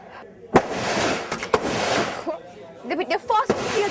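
A rifle fired at a shooting range in Ho Chi Minh City gives three loud, sharp reports spaced about a second apart. A constant wash of crowd noise and voices runs underneath.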